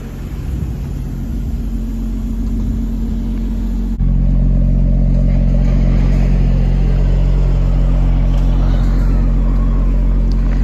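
Petrol engine of a Porsche Panamera 4S rated at 520 hp, running as a steady low rumble that grows slightly louder and fuller partway through, with no talking over it.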